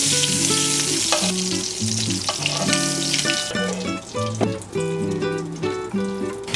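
Shrimp sizzle loudly in a pan of chorizo fat, a continuous crackling fry layered over bright background music, close and dominant.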